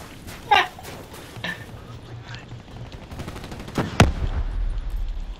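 Gunfire in the shooter Black Ops 3, with a few separate sharp shots, one louder blast near the end, and game sounds and speech mixed in throughout.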